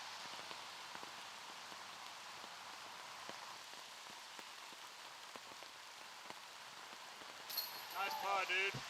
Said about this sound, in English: Rain absolutely a factor.